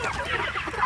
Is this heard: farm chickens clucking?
yes